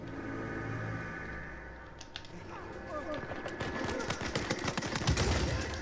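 Gunfire in Uncharted 4, a burst of rapid, closely spaced shots with sharp reports that build toward the end, mixed with game ambience and some talking.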